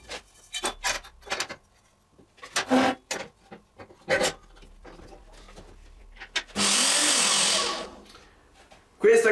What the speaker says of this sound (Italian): Questa che vado a tagliare adesso è alluminio.